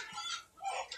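Free-range chickens clucking on a hillside farm, a short burst of faint, distant hen calls with soft outdoor ambience.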